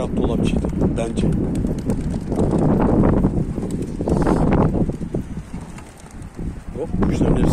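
A burst of wings flapping as a flock of pigeons takes off, mixed with heavy wind noise buffeting the microphone outdoors.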